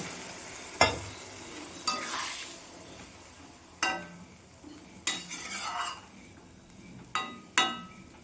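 A pan of pointed gourd and potato curry sizzling and being stirred, with several sharp bursts of louder hiss and clinks of a utensil against the pan at irregular moments, nearby and fairly loud.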